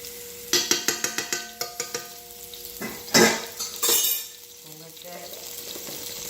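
Minced frozen garlic going into olive oil in a cooking pan: a quick run of close metal utensil clinks against the pan, then louder bursts of hissing sizzle that ease into a lighter fry.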